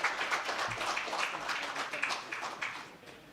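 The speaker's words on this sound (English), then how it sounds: "Let's give her a big round of applause, ladies and gentlemen." An audience at a stock exchange listing ceremony applauds, a dense patter of clapping at moderate distance that fades toward the end.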